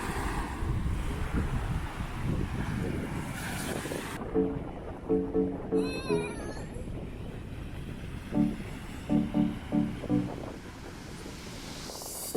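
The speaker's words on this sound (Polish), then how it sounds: "Jest na razie za lekki wiatr, żeby porządnie polatać" Wind buffets the microphone at a beach kitesurfing spot on Samui, a broad steady roar with surf-like wash underneath and no voices.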